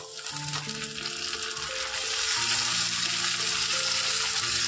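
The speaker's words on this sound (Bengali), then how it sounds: "এর মধ্যে আমি এবার যে টমেটো কুচি করে রেখেছিলাম টমেটোগুলো দিয়ে দেবো।" Chopped tomatoes frying with onion, ginger and garlic in a pan while cooking a fish-head ghonto, giving a close, continuous sizzle that grows louder and denser partway through, with no talking.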